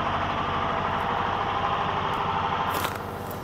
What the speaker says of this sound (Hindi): ये साउंडलेस जनरेटर है